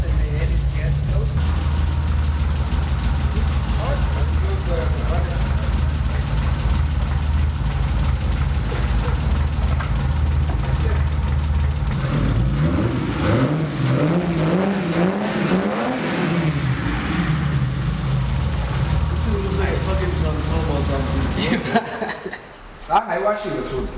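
A car engine fitted with a performance cam and bigger pistons rumbles steadily at idle with a lumpy, uneven throb, while people talk and laugh nearby.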